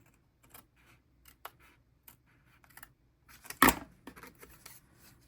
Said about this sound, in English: this little piece we can use scissors for